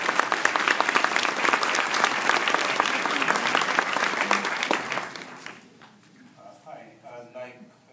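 An audience claps loudly to welcome a speaker to the stage at a lecture, a dense applause that holds steady and then thins out into a few scattered claps and murmurs.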